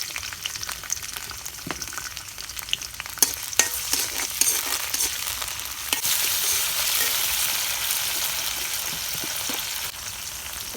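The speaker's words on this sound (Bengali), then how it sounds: "তেল দিয়ে দিতেছি, এখন পেঁয়াজ মরিচ দিয়ে দিলাম" Onion and chili frying in hot oil in a pan, a steady close sizzle with scattered crackles and scraping stirs, the hiss swelling louder in the second half with no talking.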